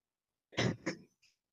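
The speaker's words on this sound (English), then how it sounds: "I'm suffering from cold. That's why I'm coughing." A single rough throat clearing from a person with a cold, followed by a short cough and a faint breath, close and isolated against silence.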